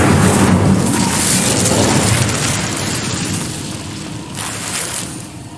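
A fiery burst from the Incendio spell cast in Hogwarts Legacy, loud and continuous, a broad whooshing roar of flame held for several seconds with a swell near the end.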